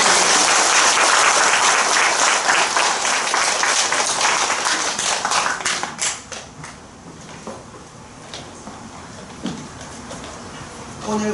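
Dense applause from a temple audience closing a Buddhist Sunday dharma service at a Korean Zen centre, loud and sustained for about six seconds, then thinning to scattered claps and room murmur.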